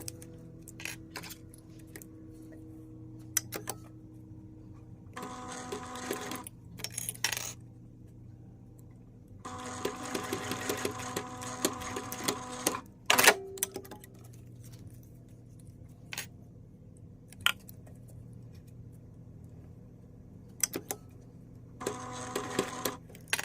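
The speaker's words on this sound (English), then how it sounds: "you're going to top stitch 1/8 of an inch away from that raw edge" Sewing machine top stitching vinyl on a zipper wristlet, running in several short bursts of rapid mechanical stitching separated by pauses and small clicks and taps, fairly quiet and close.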